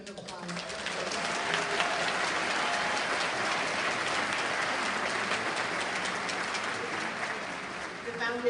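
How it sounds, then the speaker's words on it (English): An audience at a school convocation breaks into applause, swelling quickly to a dense, rain-like patter of many hands that carries on steadily before easing off near the end. "If you agree, just join me in an applause."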